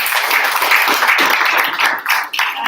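An audience at a blockchain workshop claps in a short, dense round of applause, fairly loud and steady before thinning out at the end.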